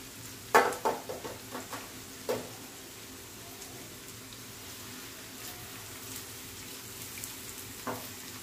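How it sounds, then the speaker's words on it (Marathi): Onion and garlic frying in oil for Malvani suka javla, a soft steady sizzle with a few sharp clinks of a utensil against the pan near the start and one more toward the end. "दोन मिनिटं तेलात लसूण परतवल्यानंतर आपण ह्याच्यात कांदा घालतोय।"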